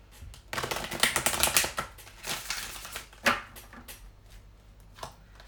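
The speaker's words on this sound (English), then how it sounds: "I'm just going to pull one of these as well, just to add to the reading for you guys." Cards from an oracle deck are handled and one is pulled: dry papery rustling, quick flicks and clicking shuffles come in close, uneven bursts with no talking.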